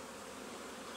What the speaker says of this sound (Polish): Więc ja to nie trzymam tak pszczół, sami widzicie, że na gęsto ich tam jest.